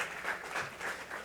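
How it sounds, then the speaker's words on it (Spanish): A short burst of steady applause from a church congregation, continuous clapping filling the space without any talking. "dale un aplauso al Señor"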